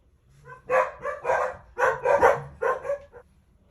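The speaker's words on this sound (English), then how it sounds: "My dog just started barking, thought there was somebody at the door." A pet dog indoors barks in a quick series of about six loud, close barks, in two clusters with a short pause between them.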